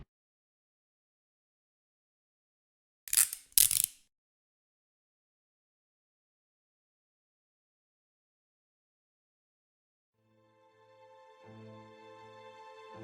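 In the video game Yandere Simulator, handcuffs are put on with two quick, sharp metallic clicks in the near silence, later followed by soft music fading in.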